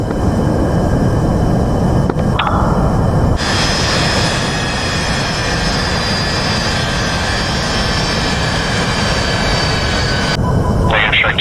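A military jet roars loudly down the runway at combat thrust for takeoff in the DCS flight simulator, in a reenactment of the 2007 Operation Orchard strike. The engine holds a dense, steady roar with a sharp whine rising partway through.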